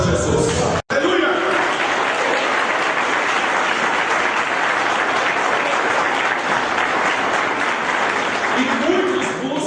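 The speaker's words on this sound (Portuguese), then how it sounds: "Aplauda Jesus." A church congregation applauding for Jesus during a sermon, a loud, full burst of many hands clapping that follows a short break and runs on continuously, with voices and cheers mixed in.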